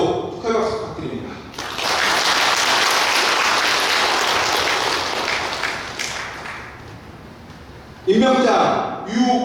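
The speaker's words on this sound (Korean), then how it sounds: "대도 축하의 박수 부탁드립니다" Congratulatory applause at a Cheontae Buddhist temple dharma service for a youth association leader's appointment, a sustained dense burst of clapping that swells in, holds for several seconds and fades as a speaker resumes talking.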